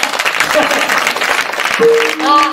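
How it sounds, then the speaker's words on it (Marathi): Crowd at a Marathi comedy kirtan gathering claps loudly and steadily, with a voice rising over the applause near the end. "सर्वांच्या उपस्थितीमध्ये आपले आमचे साऊंड सिस्टम त्यांच्यासाठी टाळी वाजवा"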